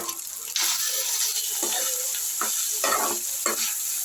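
Cooked rice is dropped and stirred into a hot fried tempering for mango pulihora, a soft steady sizzle broken by several scraping, clattering stirs of a spoon against the pan, close and without speech.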